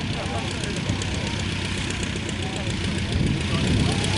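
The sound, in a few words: 1934-design vintage aircraft flying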